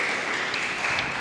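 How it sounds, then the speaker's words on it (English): An audience at a student awards ceremony for essay, oratory, poster and performing arts gives itself a round of applause, a dense, even burst of clapping that fills the whole short moment. "Give yourselves a round of applause"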